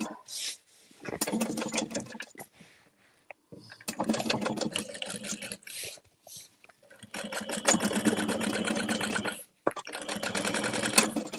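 A sewing machine top stitches a tote bag in several steady, loud runs of rapid mechanical stitching, separated by short pauses.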